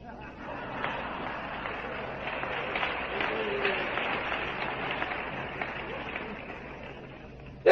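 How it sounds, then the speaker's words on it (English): Men in a church congregation clap together during a sermon, a dense, steady patter of applause that holds at moderate loudness, with voices mixed in and a louder burst at the very end. "Look at all those men clapping."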